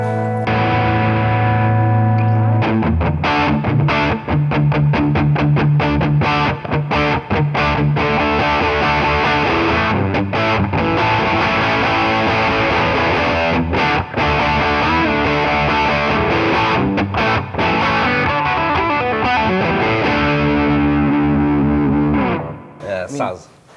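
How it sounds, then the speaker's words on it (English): Electric guitar played through an Angry Charlie distortion pedal, loud heavily saturated chords and riffs ringing continuously for over twenty seconds before fading out at the end. "if anything needs like a hard like distortion sound, I usually turn this on"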